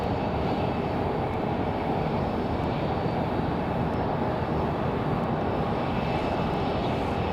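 A Republic Airways airliner at Raleigh-Durham airport, with a steady, loud engine roar that holds evenly throughout, broad and continuous with no voices.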